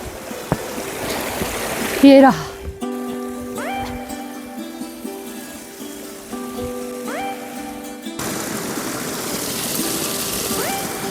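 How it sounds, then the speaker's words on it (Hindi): Rushing stream water on a Himalayan mountain trek in Uttarakhand, a steady broadband wash at the start and again near the end, with music in between and a brief spoken remark. "आगे मुझे पानी की आवाज आ रही है"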